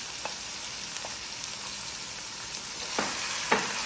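Chicken breast and onion stir-fry in a pan for pancit canton, a soft continuous sizzle broken by occasional scraping stirs and a few sharper clinks of the utensil, with no talking.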